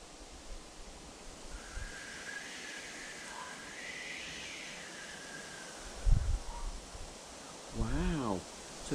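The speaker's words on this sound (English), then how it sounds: "Can you listen to the wind?" Wind rushing through trees outdoors, a broad, steady airy whoosh with soft rustling, interrupted by a brief thump and a short whinny-like cry near the end.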